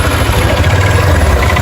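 A Yamaha Ténéré motorcycle engine with a fault idles loudly and close up, giving a steady, even rumble with a persistent mechanical clatter throughout and no voices.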